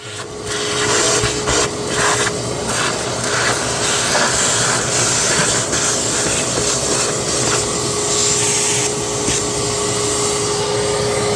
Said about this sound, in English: Vacuum all that out.